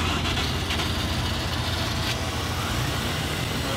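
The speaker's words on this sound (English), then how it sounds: "We're up and running. Oh, it started." Land Rover Defender engine turning over after a fault and settling into a steady idle, a low continuous rumble with a few brief knocks near the start and no talking.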